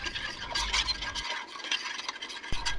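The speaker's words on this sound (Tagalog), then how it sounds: "haluin natin na mabuti hanggang matunaw yung sugar" Water and sugar stirred together in a pan for fishball sauce, producing soft scraping and swishing strokes in a quiet, close, steady rhythm without talk.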